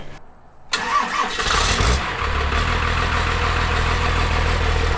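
An engine with a new alternator cranks briefly, catches, and settles into a steady, loud rumbling idle close by.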